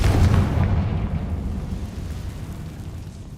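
A Confringo spell explodes in Hogwarts Legacy as a loud, deep rumbling boom that is already sounding at the start and slowly fades into a low roar over a few seconds.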